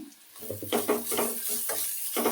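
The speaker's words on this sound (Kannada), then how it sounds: "ಮಿಕ್ಸ್ ಮಾಡಿಕೊಂಡು ಒಂದು 5 ನಿಮಿಷ ಹುರಿತೀನಿ." A utensil stirs radish pieces frying with ground masala in a pan. Its repeated scraping strokes sound close, over a soft sizzle.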